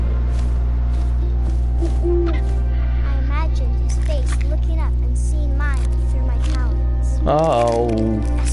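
Owl hooting in the video game What Remains of Edith Finch, loud within a dense game soundscape of steady low drones, sliding tonal calls and wind.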